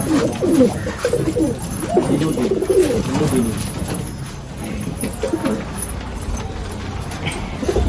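Pigeons cooing steadily inside a loft, a continuous layered chorus of low throaty coos with faint background clatter and a steady high hum.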